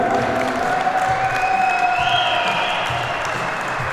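A crowd at an award ceremony for a 40+ league final tournament claps steadily in a continuous even wash of applause, with a faint whistle-like tone drifting over it.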